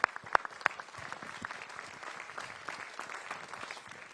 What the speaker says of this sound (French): si on peut les applaudir très très fort